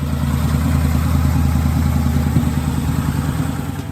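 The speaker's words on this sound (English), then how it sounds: "the tuned Harley-Davidson Night Rod on their screens" A tuned 2013 Harley-Davidson Night Rod with a 1250cc engine runs loud and close, holding a steady, deep idle with a throbbing pulse and a mechanical clatter throughout.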